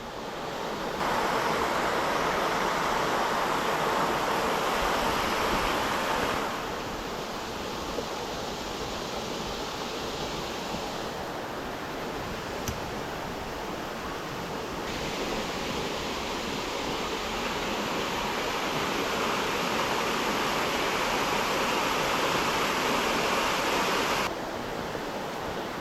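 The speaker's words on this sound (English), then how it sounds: "Sorry about the noise of the overflow," Water rushes steadily over an overflow at a fishing spot, a loud, close, continuous roar like surf that holds at nearly the same level for the whole stretch, with no voices.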